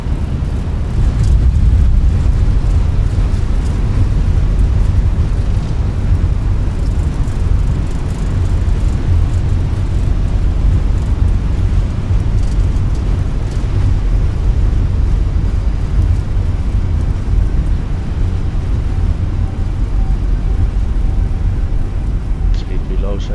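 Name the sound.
Airbus A320 reverse thrust on landing, video game MSFS2020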